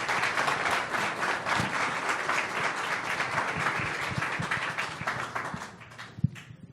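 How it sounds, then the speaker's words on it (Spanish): A conference audience gives a loud, sustained round of applause welcoming a speaker to a keynote lecture, dense clapping filling the room throughout with one sharp clap near the end. "Demos la bienvenida con un fuerte aplauso"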